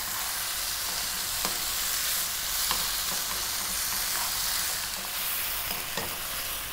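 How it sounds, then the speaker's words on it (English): Frozen shrimp fry over high heat in a pan with a continuous loud sizzle, while a spoon stirs and scrapes through it in occasional sharp taps. "stirring often now."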